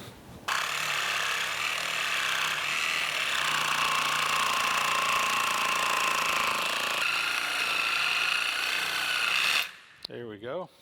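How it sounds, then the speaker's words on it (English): A Sawzall reciprocating saw cuts through the steel threaded shaft of a mill vise, a loud continuous buzzing rasp held steady for about nine seconds before it cuts off abruptly. "Let me just go grab that Sawzall."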